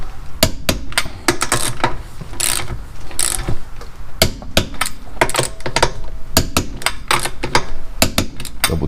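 A torque wrench ratchets the rear wheel lug nuts on a 2015 Toyota RAV4 LE sitting on the ground, with rapid close clicking in quick repeated bursts, loud and continuous, and no one talking.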